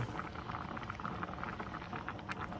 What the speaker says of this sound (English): we're gonna let it boil until it's has absorbed at least half of that water